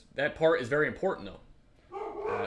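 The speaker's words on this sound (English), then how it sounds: "Please excuse my dogs." Several large pet dogs bark loudly and close by in a quick burst, followed by more yelping after a short pause, all mixed with someone talking over them.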